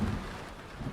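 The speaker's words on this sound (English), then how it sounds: "Thunder muttered, but far away, back over Iowa." Far-off thunder rumbles low and faint beneath a steady hiss of rain falling on surfaces, all without any voices.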